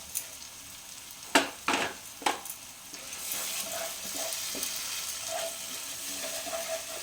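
Sour curd going into paneer masala frying in a pan: three sharp splashing bursts close up, then a steady, moderate sizzle with faint stirring that carries on to the end.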